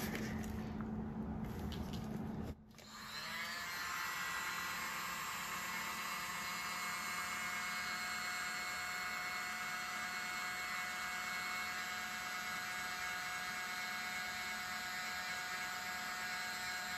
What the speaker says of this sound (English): My mini blower.